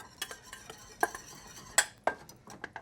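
Utensils toss and mix a salad in a bowl, with sharp clattering clicks and scrapes landing in an irregular rhythm, close and moderately loud, and no voices over it.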